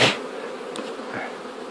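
Honeybees buzzing inside a hive during a frame inspection, a close continuous drone after a sharp initial knock, with faint clicks through it and no speech.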